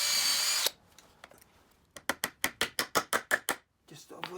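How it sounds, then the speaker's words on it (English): A power drill pre-drills a pilot hole in a wooden chock, with a short whir followed by a quick run of about a dozen sharp, evenly spaced bursts as the trigger is pulsed, loud and close. "Just to avoid cracking, I pre-drill it."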